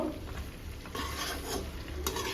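Jackfruit and potato being stir-fried with spices in oil, close scraping and stirring strokes over a steady sizzle, brief and moderately quiet, no talking.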